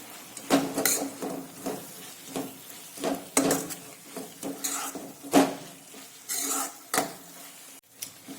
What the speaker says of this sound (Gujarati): લસણને પણ આપણે 2 મિનિટ માટે આ રીતે સાંતળીશું